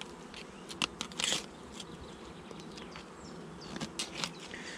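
An opened honeybee hive during a colony inspection gives off a steady, moderately faint buzzing hum. Brief handling knocks and clatters break through it.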